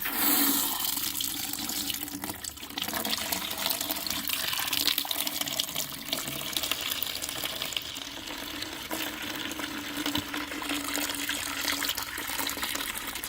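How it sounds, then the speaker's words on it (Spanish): Water gushes steadily from a garden hose while a concentrated neutral cleaning product is mixed, a continuous splashing hiss with uneven bubbling and spattering throughout, moderately loud and without any talking. "acá está mi manga de agua"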